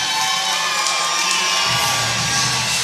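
A hometown crowd at a grappling event roars with sustained cheering and high-pitched shouts and whoops, a dense, continuous wall of noise filling the arena.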